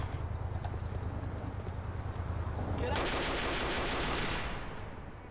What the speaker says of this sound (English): And they will start shooting.